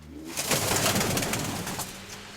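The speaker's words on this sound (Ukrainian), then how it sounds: "Ти бачиш, які голуби?" Pigeons cooing nearby, a soft throaty warble rising after a brief quiet start, with some fluttering or rustling mixed in.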